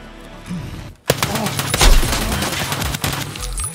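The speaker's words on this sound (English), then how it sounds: "finding yourself in an unexpected firefight up close and personal" Close-range firefight in the video game Escape from Tarkov, with a burst of loud rapid gunshots after a brief lull, sustained overlapping fire and impacts through the rest, with a voice faintly mixed under the shooting.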